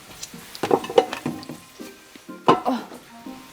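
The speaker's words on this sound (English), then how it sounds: "I have to mix with the mayo." Close, wet, irregular squelching and clicking as food is stirred together with mayonnaise in a bowl while a bento is assembled, in short uneven bursts.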